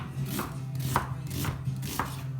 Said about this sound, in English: Onions, we're just going to slice